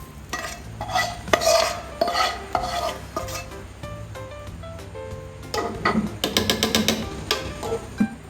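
Cooked rice and vegetables are stirred in a pot, with repeated scraping and clinking of a utensil against metal over a faint sizzle, close and busy, with brief pauses between strokes.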